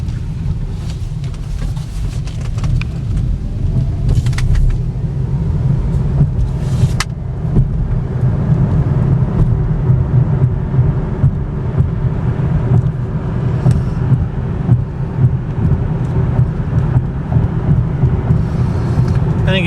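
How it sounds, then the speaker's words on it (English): A 2014 Cadillac ELR hybrid coupe, a repaired salvage car, drives along with a steady low road rumble and engine drone that holds evenly throughout, with faint wind noise and no distinct knocks. "Car runs and drives perfectly."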